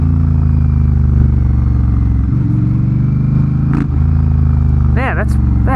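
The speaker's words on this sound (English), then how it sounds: "I mean, it sounds like a motorcycle." Honda Rebel 1100 motorcycle running with its muffler removed, a loud, deep, throbbing idle close by, with brief blips of revving and voices talking over it toward the end.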